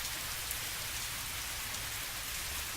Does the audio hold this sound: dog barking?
no